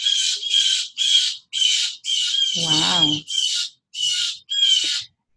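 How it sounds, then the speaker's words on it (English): Birds calling excitedly outdoors at an equinox gathering, a run of loud, harsh crow-like squawks in a steady rhythm, with one brief spoken exclamation partway through. "The birds are getting excited."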